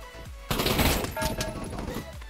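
Gunfire in the Pavlov VR shooter game, a sudden loud burst of rapid automatic shots up close, then trailing fire and a few softer follow-up shots.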